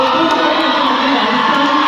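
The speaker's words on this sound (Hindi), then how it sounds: "आप सबकी जोरदार तालियों के साथ इस मंच पर मैं आमंत्रित करता हूं अब्दुल खालिद साहब को," A large crowd at a college speech event in Jaipur cheers and claps loudly and continuously as a speaker is invited to the stage, a dense, steady roar of applause close by.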